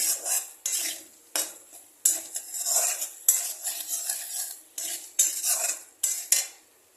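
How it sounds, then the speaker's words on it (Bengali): A utensil scrapes and clinks against a pan in repeated short bursts as potatoes are stirred into fried spice masala, with a faint sizzle between strokes and no talking. "আমি আলু দিয়ে এটাকে একটু ভালো করে মশলার সাথে আলুটাকে একটু মাখিয়ে নেব।"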